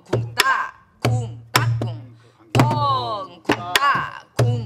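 A Korean sori-buk barrel drum plays a traditional rhythm pattern: seven sharp, close strikes in an uneven beat, each with a deep resonant boom and a ringing tail.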